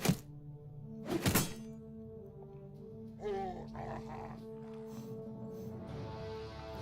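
Crossbow bolts hitting in Battle Brothers: two sharp thunks land about a second apart, followed by a grunting, groaning creature vocalization and a low ambient drone.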